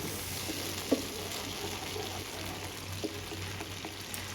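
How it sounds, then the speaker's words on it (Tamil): Soy sauce mixture poured over ginger and garlic frying in a pan for a Tamil chicken fry. A soft, continuous hiss and sizzle runs throughout, with a few faint clicks and taps. It stays quiet and close, with no voices. "அதோட நம்ம ரெடி பண்ணி வச்சுருக்கிற அந்த சோயா சாஸ் மிக்ஸ் பண்ணி இப்போ இதில் சேர்த்துருவோம்"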